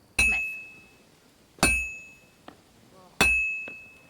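A hammer strikes a bell on an anvil during forging in Kingdom Come: Deliverance 2. Three loud, sharp metallic clangs come at even intervals, each leaving a ringing tone that fades, with a fainter tap between them.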